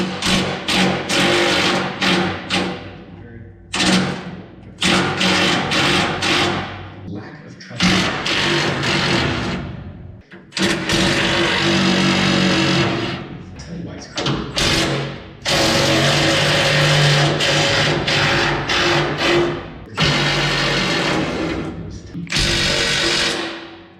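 Bolts come out of the large X brace under a combine's pan, with repeated loud, harsh mechanical bursts of tool work lasting several seconds each, separated by short pauses, close by.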